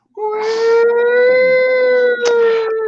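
Wailing siren sound effect for an ambulance, a sustained rising-and-holding tone lasting a few seconds, loud and alone, with a short dip before it swells again.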